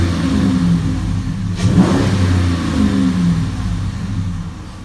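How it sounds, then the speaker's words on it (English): A 2016 RAM 1500 pickup truck engine revs up near and loud, the pitch rising and falling through a couple of revs over a steady idle, with no talking. "give her a couple revs"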